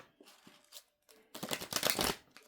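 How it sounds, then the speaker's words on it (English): A deck of Esther and Jerry Hicks Law of Attraction cards being shuffled close up, a few soft riffles followed by a louder, longer flurry of rapid card flutter, with no voices. "So let me shuffle the cards"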